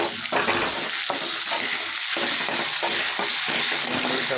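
Ginger and garlic paste frying in a pan, a loud continuous sizzle broken by regular scraping stirs of a spatula, close and without talk.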